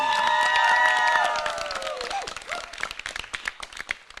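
Audience clapping at a Holi poetry show, a burst of applause from the crowd under a sustained voice at the start, thinning into scattered claps and murmurs toward the end.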